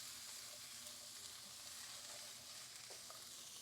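Sliced tindora sautés in a hot pan, giving a soft, steady sizzle and frying hiss with faint stirring scrapes throughout, quiet and without any voices.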